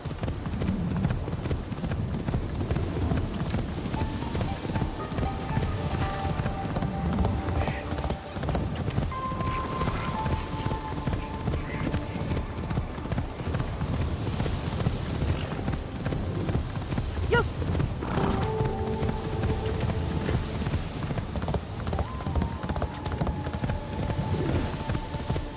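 Horse hooves clip-clop and gallop steadily in the video game Ghost of Yotei, a masked rider's mount, with game music and ambient sound mixed in throughout.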